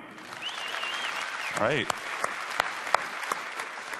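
Audience applause at a Windows 8.1 product presentation, a steady wash of clapping from a large crowd, with a presenter's brief voice over it partway through.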